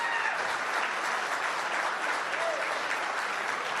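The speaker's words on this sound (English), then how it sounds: "Allow me to do that line again, and we'll get the applause off of it." Sustained applause from a crowd of union workers at a political rally in Windsor, a dense steady wash of clapping that holds at an even level throughout without pauses.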